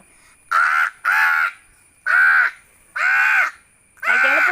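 Crows caw loudly and close by, five harsh drawn-out calls in an uneven rhythm with short quiet gaps between them and no other sound around.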